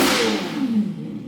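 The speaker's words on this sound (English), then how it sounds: "So we got the exhaust on as well. As you can see in there, it looks cool and it's the loudest thing I've ever heard in my life." A Lamborghini Revuelto fitted with a Gintani F1 exhaust revs hard: one loud, close burst that rises then falls away over about a second.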